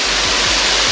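A waterfall pours into a small pool, a loud, dense, unbroken roar of rushing water heard close up for just under a second.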